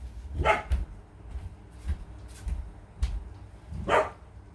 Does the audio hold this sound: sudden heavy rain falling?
no